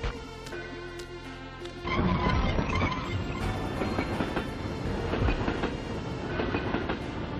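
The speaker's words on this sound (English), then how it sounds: "So you have to drive the train all the way out here and stop it." Train rolling along rails in the video game Blast Corps, a steady dense rumble with clickety-clack that jumps louder after about two seconds and keeps going, with no voices over it.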